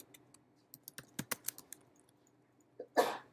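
Short, quiet bursts of keys are typed on a computer keyboard, with uneven clicks clustering in quick runs, followed by a brief soft rustle or breath near the end.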